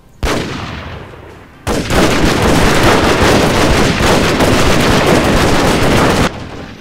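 Dense, sustained gunfire in the Shogun 2 Fall of the Samurai video game, first-person view, with loud rolling volleys and crackling shots that run almost continuously after a brief opening burst, close and heavy.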